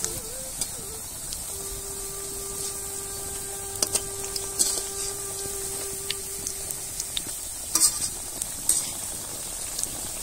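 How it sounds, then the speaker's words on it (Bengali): Hridoy haron pitha, decorated Bangladeshi sweet dough pieces, fry in hot oil with a quiet continuous sizzle and soft hiss, plus occasional faint clinks. "হৃদয় হরণ তেলে ভাজা হচ্ছে।"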